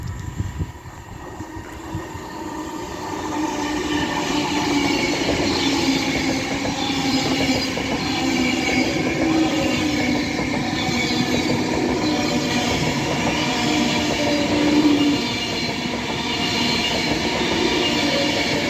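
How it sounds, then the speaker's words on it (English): An Avanti West Coast Class 390 electric train, running London Euston to Manchester Piccadilly, passes through Cheadle Hulme station on the West Coast Main Line: a long steady roar of wheels and rail noise with faint clicking and squealing, building in at the start and holding loud throughout. "The next train to be coming through will be an Avanti West Coast Class 390 running from London Euston to Manchester Piccadilly."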